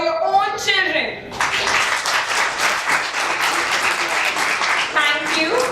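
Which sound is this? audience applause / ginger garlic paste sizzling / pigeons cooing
audience applause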